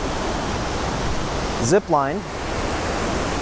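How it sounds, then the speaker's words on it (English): Rushing water of the Uma waterfalls and Uma River, swollen and brown after heavy overnight rain, roars as a steady broadband wash with a brief voice speaking over it. "this is the Uma waterfalls and Uma River"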